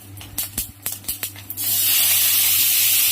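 Vegetables drop into hot oil seasoned with five-spice (panch phoron) and a green chili: a few sharp taps and clatters first, then a loud, steady, close sizzle that fills the rest.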